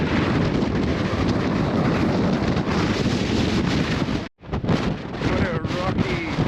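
Fierce wind buffets the microphone atop rocky, barren Mount Wellington above Hobart, Tasmania, a loud, continuous roar that drops out for a moment near the end before gusting back.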